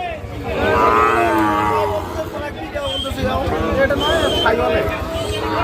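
A Sahiwal bull calf moos loudly and close at a busy cattle market, two long drawn-out calls with a murmur of crowd and voices around it.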